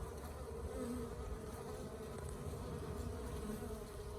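Bees buzzing steadily around a trap-out box on a homestead, a continuous dense drone of many insects close by, with no talking.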